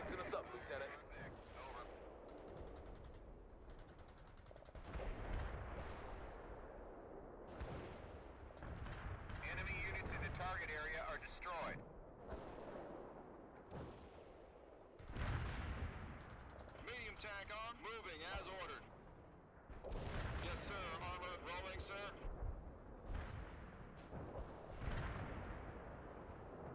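Artillery barrages in the real-time strategy game World in Conflict: Soviet Assault, with repeated heavy booming blasts and rumbling impacts over about half a minute, mixed with clipped radio-style unit voices talking between and over the explosions.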